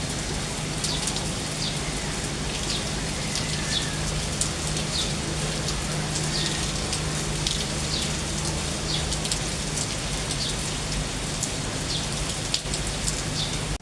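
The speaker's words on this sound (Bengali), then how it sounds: "একটানা বৃষ্টি মুষলধারে।" Heavy, continuous monsoon downpour of rain, a dense, steady hiss of drops on surfaces with faint scattered patters, unbroken and even for the whole stretch, no voices.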